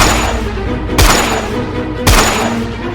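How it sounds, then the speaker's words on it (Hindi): Two sharp gunshot booms burst out about a second apart over a loud, noisy rumbling background. "पुलिस वाला घबराता हुआ उसके ऊपर लगातार 3 गोलियां चला देता है"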